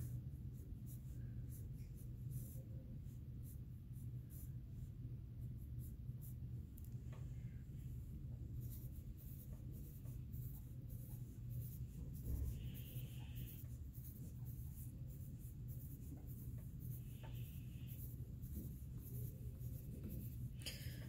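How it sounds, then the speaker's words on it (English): A pencil draws patterns on paper in a third-grade art project, making a faint, continuous scratching that goes on steadily for about twenty seconds with no talking. "I'm just using a pencil right now because that's what I have."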